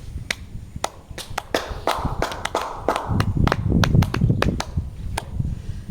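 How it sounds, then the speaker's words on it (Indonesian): Scattered claps from a small group in a classroom after a micro-teaching group presentation, irregular sharp hits over a low murmur of voices and room noise. "Kita berikan tepuk tangan dulu."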